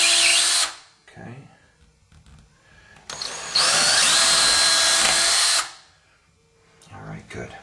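A power drill bores into a hardwood floor and down into the subflooring in two loud whining bursts, a short one and then a longer sustained run, with quieter handling noise and faint voices in between.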